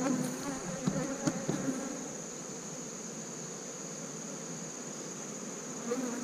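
Bees buzz steadily around an open beehive brood frame, a continuous close insect drone with a few louder passes near the start and end, heard without any talking.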